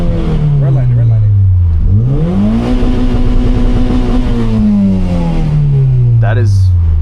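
A Toyota Celica GT-Four engine revs hard and loud up close to redline, holding a high strained pitch for a few seconds before easing back down.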